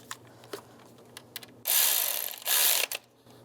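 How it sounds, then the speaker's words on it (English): A nut being tightened on a Volkswagen Jetta belt tensioner: a few scattered light metallic clicks from a ratchet, then two bursts of louder continuous whirring from a tool, close and with no talk. "Tighten that nut down."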